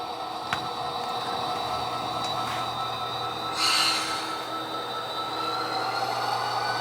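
Model train locomotives run on a layout in a steady rolling hum, with faint clicks and one brief squealing swell partway through.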